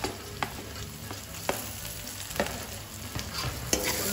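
Tomatoes and onions for pav bhaji frying in a pan, a soft continuous sizzle broken by a few distinct spoon scrapes and knocks at irregular intervals, close and quiet, with no voices.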